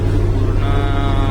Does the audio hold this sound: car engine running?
yes